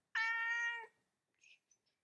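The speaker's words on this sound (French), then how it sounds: "Désolé pour les bruits de chat, c'est pas des trucages, c'est un vrai chat qui a faim." A hungry domestic cat gives one clear, drawn-out meow close by, followed by a couple of faint, brief sounds in an otherwise quiet room.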